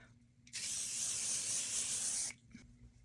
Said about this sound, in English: So I'm going to be setting it with this infallible